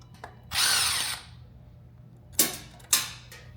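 A power drill runs screws on the bottom of an XAG P100 Pro pump: one sustained whirring run, then two short sharp bursts, close and loud with no talk.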